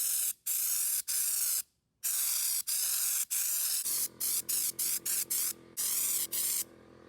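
An aerosol spray can coats van floor panels outdoors: loud, close hissing bursts, several long sprays followed by a run of short rapid puffs with brief silences between them.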